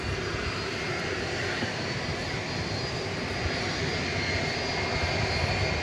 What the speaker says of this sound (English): You may hear in the background a plane revving up